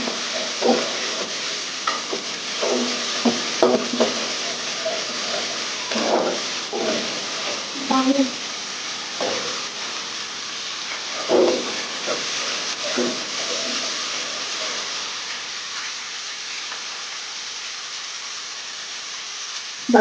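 Chicken pieces for biryani fry and brown in spiced oil in a pan, a continuous sizzling hiss broken by scraping bursts of stirring, with a voice heard now and then.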